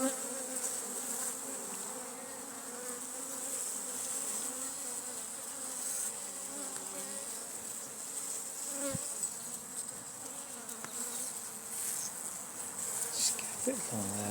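Honey bees in a hive box, lightly smoked to calm them, drone in a steady close buzz with a bright high whine, brief individual bees flying past, and no talking.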